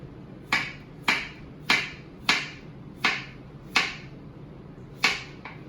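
Knife slicing potatoes thinly on a cutting board for a Spanish tortilla, eight sharp evenly spaced chopping taps about every half second, close and clear over quiet room tone.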